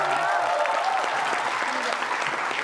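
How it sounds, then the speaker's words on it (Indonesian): Audience clapping at an Indonesian variety show gathering, a dense burst of applause filling the whole moment, with voices mixed in beneath. "kasih tepuk tangan"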